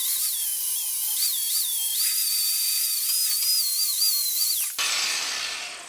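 A 6-amp, 4.5-inch angle grinder with a flap wheel grinds a spot on a steel tractor bucket, giving a loud, steady, high-pitched whine that wavers under load and then cuts off abruptly, leaving a fading spin-down.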